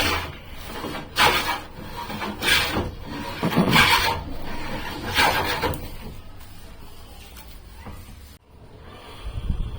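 Wooden furniture, a new dining table, being polished by hand, giving steady repeated rubbing strokes close by, about half a dozen broad swishes, then quieter scraping toward the end.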